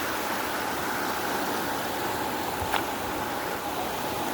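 Rushing floodwater flowing fast past the recorder, a steady broadband hiss of moving water with no pauses and one brief faint click midway.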